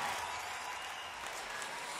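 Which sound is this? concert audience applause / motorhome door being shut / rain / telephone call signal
concert audience applause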